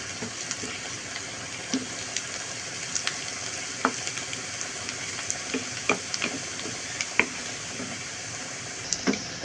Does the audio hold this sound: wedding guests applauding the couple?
no